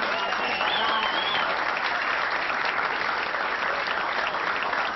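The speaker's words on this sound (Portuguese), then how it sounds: "Palmas para a nossa diva." A loud, sustained burst of applause from a large audience, dense clapping that fills the whole stretch without a break.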